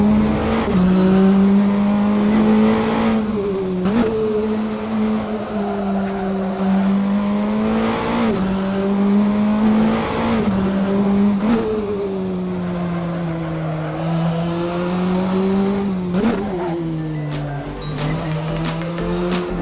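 Praga R1 race car engine in Assetto Corsa at the Barcelona circuit, a loud, continuous high-revving drone that rises and dips with gear changes and throttle lifts, with occasional tyre squeal, running alone for about twenty seconds.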